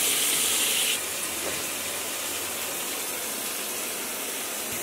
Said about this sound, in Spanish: Así que vamos a ir llenando la bañera.